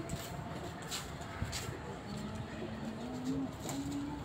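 Pigeons, a Lucky and frill back cross, coo softly in low rolling calls under a quiet background hum, with someone talking nearby.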